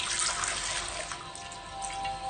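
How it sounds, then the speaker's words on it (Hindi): A towel soaked in hot, near-boiling water is wrung out by hand, giving a close, steady trickle and splash of water draining off the cloth, fairly quiet with no voices. "दोनों तरफ से टॉवल पकड़ना है आपने और फिर अच्छे से निचोड़ना है"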